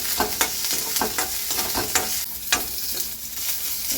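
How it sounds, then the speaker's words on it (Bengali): Eggplant pieces fry in hot oil in a home kitchen pan, a steady sizzle broken by repeated sharp scrapes of the spatula as they are stirred, roughly twice a second and close by. "অল্প বেগুনটাকে ভাজা ভাজা করে নেব"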